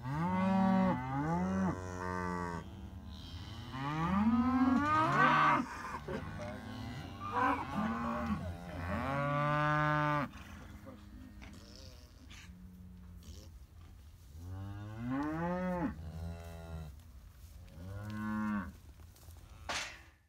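Cattle moo again and again, long bellowing calls overlapping from several animals close by, with a steady murmur of background noise.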